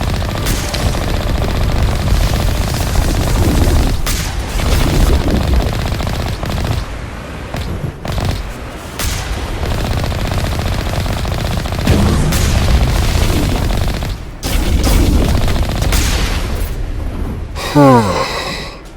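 Gunfire in the Mass Effect video game, dense bursts of machine-gun fire with occasional heavier booms, loud and continuous across most of the stretch alongside game sound effects.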